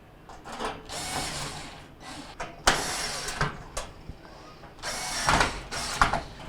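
Screws are tightened during a Hotpoint stove repair, with intermittent close mechanical whirs, clicks and rattles of a tool and metal panel, coming in short bursts with pauses between.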